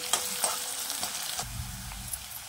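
Sliced onion frying in oil with cumin while being stirred in a pan, a steady close sizzle broken by a few sharp scraping knocks of the spoon, no voices.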